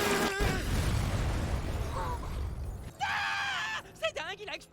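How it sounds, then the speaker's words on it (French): A wall being smashed apart in an anime fight, a loud crashing burst that shatters and rumbles for about three seconds, followed by brief higher animated sound effects. "C'est dingue, il a explosé le mur!"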